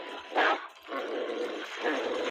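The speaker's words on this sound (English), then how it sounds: "The vicious dog kept barking wildly outside." A vicious dog barks wildly outside a house in loud, ragged bursts that run almost continuously, with a sharp yelp near the start.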